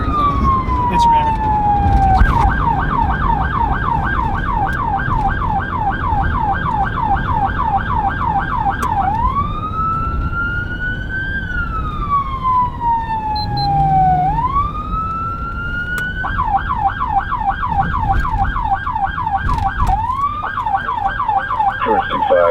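Police car siren from Los Angeles police patrols, loud and continuous, switching between a rapid yelp and a slow rising-and-falling wail over steady road rumble.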